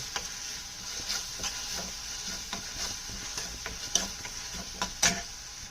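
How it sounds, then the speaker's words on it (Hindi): Tomatoes are stirred into paneer bhurji in a pan, a soft sizzle underlying repeated scraping stirs that tick along at a steady, unhurried rhythm. "अब हम स्लोली टमाटरों को इसमें मिक्स करेंगे।"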